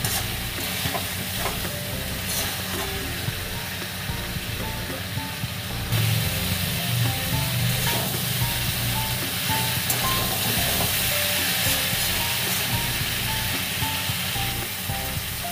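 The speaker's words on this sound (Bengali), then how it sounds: "দেবো এবার ভেজে রাখা ফুলকপি, দিয়ে আবার আলু মশলার সাথে ভালো করে কষিয়ে নেব।" Cauliflower pieces and potatoes are fried with spices in a pan for a Bengali fish curry, giving a steady close sizzle with scraping stirs throughout that grows a little louder partway through.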